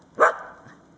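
A Sheltie barks once, a single sharp close bark in a snowy Maine blizzard, followed by a quiet tail of snow ambience.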